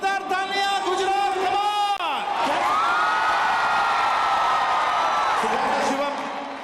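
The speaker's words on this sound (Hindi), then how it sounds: "जोरदार तालियां गुजरात" A stage crowd in Gujarat at the National Games event roars with cheers and whoops, with sung or shouted voices riding over the noise before it swells into sustained cheering that fades slightly at the end.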